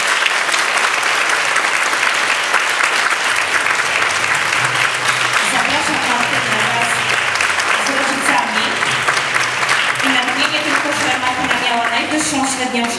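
An audience at a school year-end ceremony for third-year gymnasium classes claps in sustained, even applause, with a voice speaking over the clapping in the second half.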